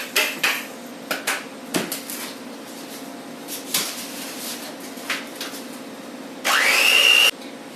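Dry ingredients worked into gluten-free ginger snap cookie dough, with a series of dull knocks and thumps and then a short steady whir of a mixer near the end, heard up close.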